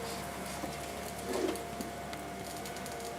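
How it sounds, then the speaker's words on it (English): A GMP Excel Topic 380 laminating and sleeking machine running as it feeds foil through, giving a quiet, steady mechanical whir with a faint soft clunk partway through and no talk. "press run on your control panel. You'll see that the laminate feeds the foil through your device."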